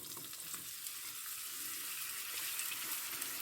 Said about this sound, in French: Et je vais d'abord mettre les oignons en premier.